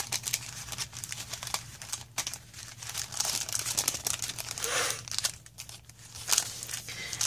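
Crepe paper backing on a crafting swap package crinkles and crumples steadily up close, with sharper rustling bursts throughout and no talking.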